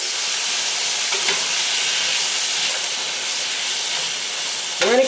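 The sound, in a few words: sausages, celery and onions frying in a pan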